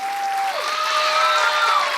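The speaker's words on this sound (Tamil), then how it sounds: "நம்ம இசையமைப்பாளருக்கு ஒரு நல்ல கைத்தட்டல கொடுங்க." An audience at a Tamil television stage show applauds the music composer, a dense, steady wash of clapping from a large crowd that holds evenly throughout, with a faint tone and possible voices mixed underneath.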